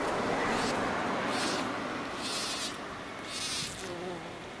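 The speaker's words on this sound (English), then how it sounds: "Here the worker is buzzing to release pollen." A common bumblebee worker sonicates a flower to shake out pollen, making pulsing, close insect buzzes that rise and fall in repeated bursts over a steady background.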